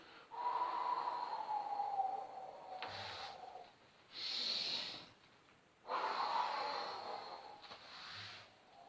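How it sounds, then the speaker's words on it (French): During a Pilates exercise, a person takes sharp, short nasal inhales and longer, breathy exhales, up close and alone, with clear pauses between breaths. "Vous conviendrez que l'inspiration est plus courte que l'expiration."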